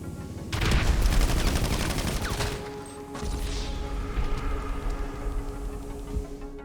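Rapid gunfire exchange between carbine rifles in GTA Online, with dense overlapping shots bursting in after a brief quiet start, then continuing more sparsely under a steady game hum.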